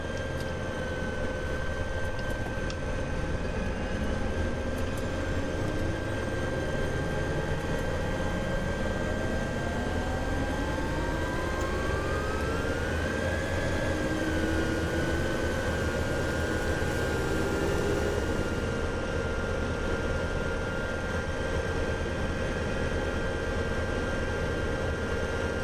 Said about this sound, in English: Okay, good start, both engines.